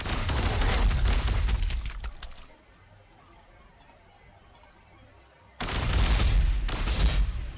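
Tanks fire in Warhammer 40,000: Sanctus Reach with dense, loud rattling barrages in two bursts separated by a few seconds of quieter lull.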